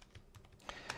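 Soft, quick keystrokes on a computer keyboard during a Linux terminal install session, a short run of light clicks at low volume with no voices.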